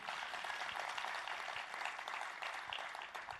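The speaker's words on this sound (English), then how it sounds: "Keep a round of applause for Abu" Audience applause for Abu at a developer day event, a dense, steady wash of clapping that holds at a moderate level, slightly distant, throughout.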